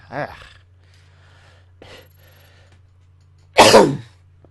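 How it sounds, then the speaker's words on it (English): A couple of soft breathy sounds, then one loud, sharp cough bursts out near the end, close to the listener. "Sorry about that cough."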